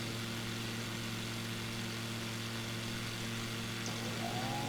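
A light aircraft engine drones steadily and loudly in the climb after takeoff, a continuous hum heard from inside the cabin with no pauses and no talk.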